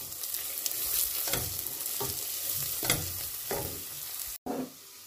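Tarhana soup paste stir-fried in a pot, a steady close sizzle broken by repeated scraping stirs of a utensil against the pot, with a sharp knock near the end and no talking.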